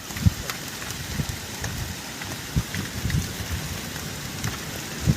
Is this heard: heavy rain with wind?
yes